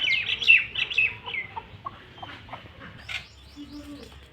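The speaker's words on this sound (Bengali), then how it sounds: "এটা বড় হাঁস, এটা ছোট হাঁস।" Domestic ducks, one large and one small, give a few quick quacks and chirpy calls close by, followed by softer scattered calls in a quiet household setting.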